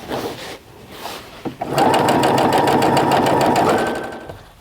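Sewing machine running steadily for a couple of seconds as it reinforces stitches on a zip top bag, a loud continuous whirring hum preceded by a few quieter handling sounds.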